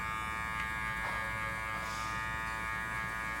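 Electric hair clippers cutting a mid fade hum with a steady close buzz, the tone shifting slightly as the blade moves through the hair, and no speech over it.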